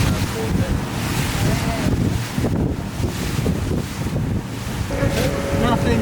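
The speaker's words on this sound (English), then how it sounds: "we've got some pretty big rapids up there" Rapids on the Río Caca in Bolivia rush and churn in a steady loud roar, heard from a boat with heavy wind buffeting over the water.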